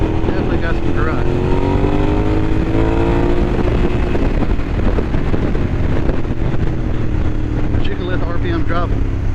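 A Suzuki SV650 motorcycle engine accelerating, a loud, close, continuous rumble rising in pitch through the rev range, heavily buffeted by wind noise, with a rider's voice over it.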